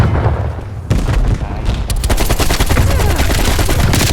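Rapid, loud automatic gunfire in Call of Duty Black Ops Cold War, sustained close bursts with a few heavier booming impacts, dense and continuous with almost no speech over it.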